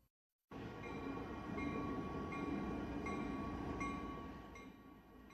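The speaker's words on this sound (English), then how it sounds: "Now let's review freight trains." A freight train rolls by continuously after a brief silence, a steady rumble with rhythmic rail clicks and a faint ringing tone that swells, then slowly eases off.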